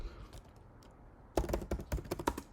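Keyboard typing on a computer keyboard: a quiet lull, then a burst of quick, crisp keystrokes in an uneven rhythm, close and fairly loud, with no talk.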